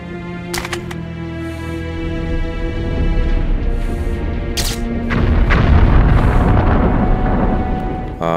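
A bomb blast in the video game Metro Last Light, a deep rumbling boom that swells and lingers with sharp crackling transients, loud and close.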